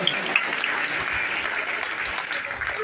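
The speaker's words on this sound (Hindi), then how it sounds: "जोरदार दोनों बगल से ताली होना चाहिए" A crowd claps loudly and steadily at a village Bhagavat Katha religious gathering, dense continuous applause close by that fills the whole moment.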